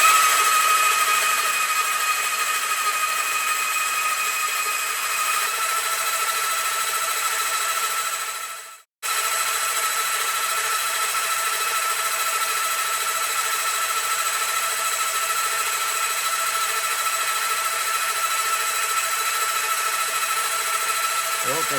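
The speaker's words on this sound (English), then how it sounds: "Just want to spin the starter motor and get some get some oil coming up." A cafe racer motorcycle engine spun over by its starter motor, a steady whirring drone that runs loud and continuous, with one brief dropout partway through before it resumes unchanged.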